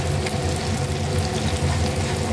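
Minced garlic frying in a pan, a steady close sizzle and crackle that holds evenly throughout, with no voices over it.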